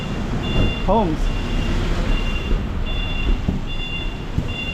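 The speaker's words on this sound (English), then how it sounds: "That's a garbage truck right there." A garbage truck backing up in a narrow alley in Macau sends out steady, evenly spaced high reversing beeps over a low engine rumble and street noise, with someone talking nearby.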